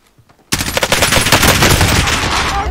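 A machine gun in Call of Duty: Warzone opens up suddenly after a brief quiet moment, then fires a loud, rapid, sustained burst of close gunfire that continues to the end.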